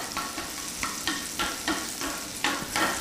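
Butter melting and sizzling in a pan, a constant close hiss broken by regular stirring scrapes about every half second.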